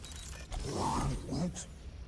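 A door creaks open in the video game Guardians of the Galaxy, a short low groaning creak lasting about a second, close and moderately loud over a faint background.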